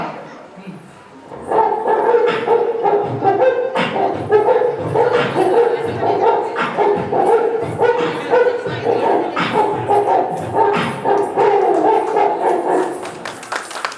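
At a charitable trust's annual anniversary event, a voice imitates a dog barking, woofs and yips in a steady beatbox rhythm, loud and close throughout.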